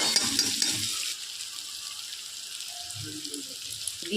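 Onions fry in a pan as salt is scattered over them, giving a soft, continuous sizzle with a few light stirring scrapes near the start.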